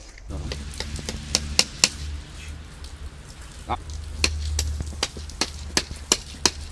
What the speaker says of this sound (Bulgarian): Значи, Делянчо, не го ли начукаш с чука, няма да стане моето момче